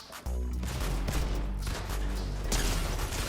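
Gunfire in Fortnite during a high-level solo series match, a loud close burst of rapid shots kicking in after a brief quiet start, followed by mechanical clatter and another sharp volley near the end.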